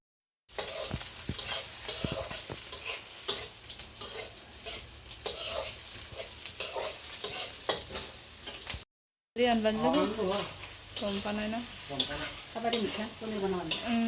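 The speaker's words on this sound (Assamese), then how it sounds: "পনীৰ আঞ্জা বনাবৰ কাৰণে পনীৰখিনি ভালকৈ ভাজি লৈছে" Paneer cubes frying in a pan for paneer curry give a steady close sizzle, broken by repeated stirring scrapes and clinks and a short pause partway through.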